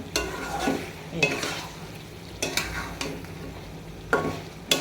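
Goat liver frying in a pan for a spicy bhuna, stirred with a spatula: close sizzling with several sharp scraping strokes against the pan at irregular intervals, no talk.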